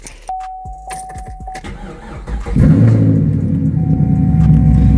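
Chevrolet Camaro starting after a coolant sensor fix: key-on chimes and a brief cranking stutter, then the engine catches and settles into a loud, steady idle rumble.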